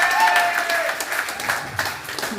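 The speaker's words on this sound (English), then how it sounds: "everybody give a big round of applause to Dr." An audience claps steadily for a speaker being introduced at a talk, a dense, close wash of applause that holds through the whole moment.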